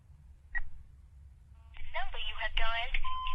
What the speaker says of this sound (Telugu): వాడు కాల్ చేసిన నంబర్కి మళ్ళీ కాల్ చేయి.